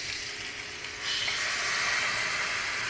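A prickly cactus sandwich cooks on a grill with a broad, steady hiss and sizzle that swells louder about a second in and then holds evenly, with no voices.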